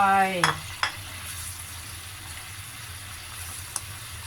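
Fried tofu and batter being stirred in a hot pan, with a brief clatter at the start, then a steady low sizzle that continues alone with a few faint utensil taps.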